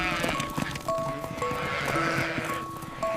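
Cartoon sheep bleat in a Shaun the Sheep farm scene, with several overlapping calls and clip-clopping hooves mixed with a busy soundtrack.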